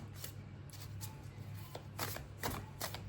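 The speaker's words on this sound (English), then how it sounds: "I'm going to shuffle slightly off camera" A deck of cards is shuffled close by in a quiet room: a run of soft, crisp riffling bursts repeats in an uneven rhythm over a faint low hum.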